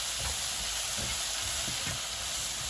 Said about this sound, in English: Now the pan is fully heated, so you can hear the oil is sizzling